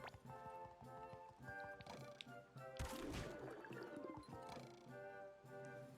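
A horse-like steed dashes along in SpongeBob SquarePants: The Cosmic Shake, its quick clip-clopping hooves running under bright game music, with a whooshing burst midway and a faint voice.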